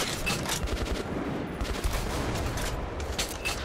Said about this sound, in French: ça tire dans tous les sens, on comprend rien